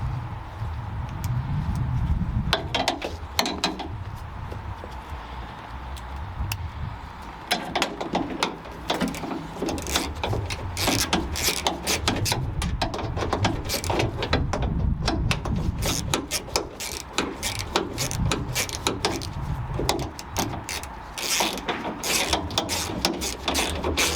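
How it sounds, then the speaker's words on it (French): A ratchet wrench on an extension clicks rapidly and continuously while re-bolting a spoiler on a Peugeot RCZ, dense close-up ratcheting bursts with brief pauses and a low background rumble. "Donc là, je reboulonne de l'autre côté également."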